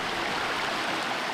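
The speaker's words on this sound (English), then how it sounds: "the waterfalls that start the river" Waterfalls at the source of the Catawba River pour in a steady, broadband rush of falling water, a continuous hiss with no pauses, heard alone from fairly close.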